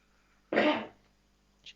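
An old pet dog coughing, a single harsh hacking cough, close and fairly loud, followed by a brief faint snort in an otherwise quiet room.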